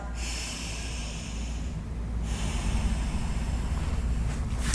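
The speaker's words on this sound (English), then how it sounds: "Slow your breath." Slow, steady breathing during a yoga pranayama practice in a warm room, a continuous airy rush of breath sounding close and alone, with no talking.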